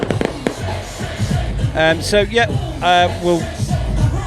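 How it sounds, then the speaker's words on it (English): Fireworks crackle and pop at a 1990s revival firework display in Shrewsbury, with scattered bursts under someone talking close by and crowd noise around. "my son Timmy is not a massive fan of fireworks, but he's actually really enjoying these"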